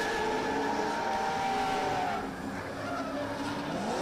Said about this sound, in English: that cone stuck under the front bumper, puts him into a spin, and Ian Bizz Phillips